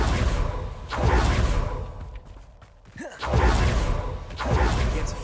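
A Confringo fire blast spell from Hogwarts Legacy fires as loud whooshing, roaring bursts, one near the start and another after a brief quieter lull, swelling into a sustained blast that fills the rest of the moment.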